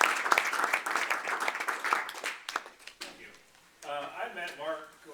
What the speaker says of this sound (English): if you'd like to give a round of applause for Jack